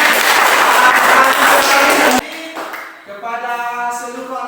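A classroom group at a teacher training session clapping loudly for students, a dense burst of applause that cuts off abruptly, followed by a voice speaking.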